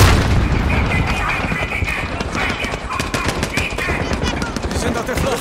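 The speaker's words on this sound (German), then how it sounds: "Wer schießt denn hier auf mich?" Rapid, sustained automatic gunfire and heavy weapon bursts from a Call of Duty Modern Warfare (2019) firefight, dense and loud throughout with booming impacts.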